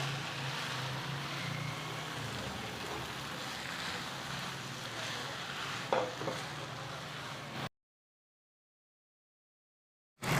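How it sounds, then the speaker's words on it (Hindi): Hakka noodles tossed with salt in a pan: a quiet, continuous sizzle with soft stirring and scraping, one sharper knock near the end, then the sound cuts to silence. "ये नूडल्स हैं इसे भी मैं डाल दूँगी और अब अच्छे से मिक्स कर लेंगे"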